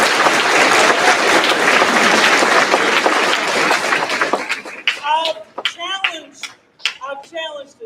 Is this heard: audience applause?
yes